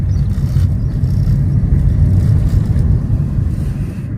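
A car rolls along the road with a steady, loud low rumble of engine and tyres that holds without break throughout, heard from inside the vehicle.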